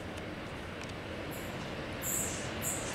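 A Polish passenger train pulls into a station with a steady rumbling roar and a rising, high wheel squeal near the end, alone and fairly loud.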